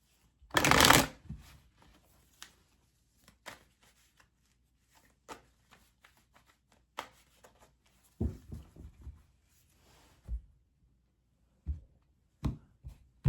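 Tarot cards are shuffled in a loud, close riffle at the start. Scattered soft card taps and flicks follow in an irregular rhythm, with quiet gaps between them.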